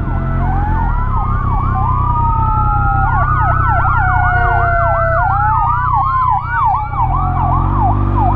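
An ambulance siren passes on the road, loud and close, with rising and falling wails and rapid yelping bursts layered over a steady low traffic rumble for the whole stretch.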